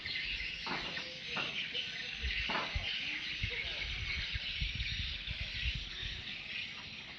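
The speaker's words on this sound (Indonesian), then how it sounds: "Suara manis produksi sarang burung walet." Swiftlets chirp steadily at a bird's nest production house beside a small government jetty on the Kampar River in Sumatra, a dense high twittering chorus filling the air with a few sharper calls standing out.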